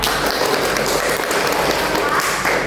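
A classroom of students claps after a group presentation, an even, continuous patter of many hands at moderate loudness, with faint voices underneath.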